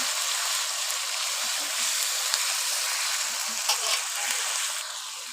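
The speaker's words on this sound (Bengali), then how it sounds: "রসুন বাটা দিয়ে দেবো রসুনটা একটু ভাজে নিন ভালোভাবে" Garlic paste sizzles steadily in a hot pan for a Bengali raw jackfruit curry, a continuous bright crackle of frying with faint soft stirring knocks underneath.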